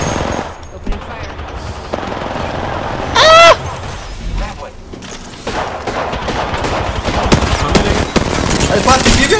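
Rapid automatic gunfire in the battle-royale video game Apex Legends, with loud bursts of shots and impacts mixed with other game effects, while players talk over the action.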